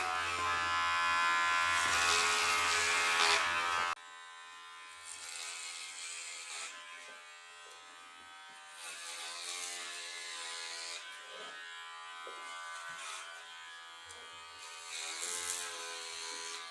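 Electric hair clippers buzz steadily while shaving a head of hair, a close, continuous motorized drone that changes pitch and load as the blades move through the hair.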